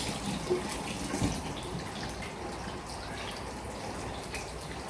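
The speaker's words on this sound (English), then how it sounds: "I'm gonna get all that potato residue, wash off my hands." Tap water runs in a sink as hands are rinsed clean of potato residue, a constant close splashing hiss with a few soft splatters and no voices.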